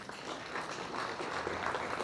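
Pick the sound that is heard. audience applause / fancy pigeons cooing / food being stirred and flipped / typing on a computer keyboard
audience applause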